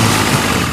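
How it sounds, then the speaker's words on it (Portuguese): Boat engine in a Peppa Pig cartoon sailboat, a steady low idling drone running continuously and fairly loud throughout the short moment, with no voices over it. "O barco à vela tem um motor."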